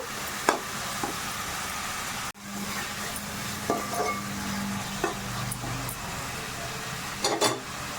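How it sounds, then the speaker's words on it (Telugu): Masala spices frying in a pan for ivy gourd curry, with a quiet steady sizzle and occasional stirring scrapes and clinks, close and fairly faint, without talk. "ఈ మసాలాను వేసి ఒక్క ఫైవ్ మినిట్స్ ఫ్రై చేయాలండి మంచి అరుమ అన్నది వస్తుంది మనకి ఈ మసాలా వేగుతున్నప్పుడు"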